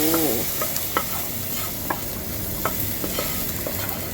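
Fried garlic and coriander hitting a pot of curry, a loud close sizzle with stirring scrapes and a few quick clinks, steady frying hiss throughout.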